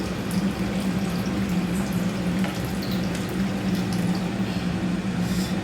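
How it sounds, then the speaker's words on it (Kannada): Ladies finger sambar boils in a pot, giving a steady, moderately quiet bubbling hiss with a soft simmering rumble throughout and no voices. "ಇವಾಗ ಸಾಂಬಾರು ಕುದೀತಾ ಇದೆ"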